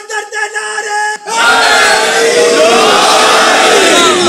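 A large crowd at a religious lecture gathering roars out slogans in unison with both hands raised, a loud, sustained wall of massed voices that swells in abruptly after a brief tonal passage and holds steady.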